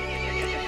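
A horse in Resident Evil Village gives a short, loud whinny up close, with no talk over it.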